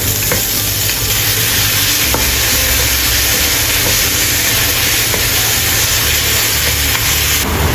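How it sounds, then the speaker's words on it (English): Shimeiji mushrooms and onion stir-fried in a hot pan, heard as a loud, continuous sizzle and hiss with faint scraping of the utensil throughout. "Add onion white. Add Shimeiji mushrooms and stir fry."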